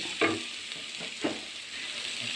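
Sliced onions frying in a pan, a steady soft sizzle throughout with two brief louder scrapes of stirring near the start and middle.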